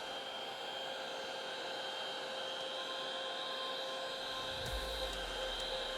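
A heat gun blows hot air over faded black car trim, giving a steady, quiet whooshing hum that holds for the whole stretch, with a brief low thump near the end and no talking.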